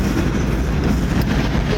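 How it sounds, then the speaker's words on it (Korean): Subway train rumbling along an overhead track beside the Han River, a dense continuous clatter of wheels and carriages heard from just below, loud and unbroken. "지하철 지나다니는 곳이어서"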